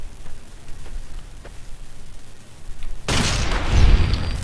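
A single loud gunshot in the PC game Fallout: New Vegas kills an enemy, a sudden booming blast with a rumbling tail that cuts in after a quiet stretch of faint ambience.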